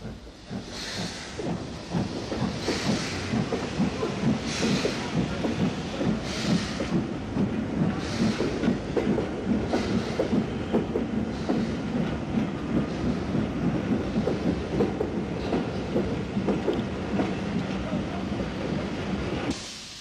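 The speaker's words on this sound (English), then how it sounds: "number 207 is seen working cautiously wrong road past Knockmore Junction south of Lisburn" Steam locomotive No. 207 works a 10-coach GAA special from Belfast to Dublin cautiously on the wrong road past Knockmore Junction south of Lisburn, Ulster, with a continuous heavy rumble of wheels and periodic hissing exhaust bursts.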